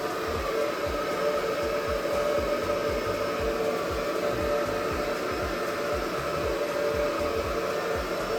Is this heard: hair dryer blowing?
yes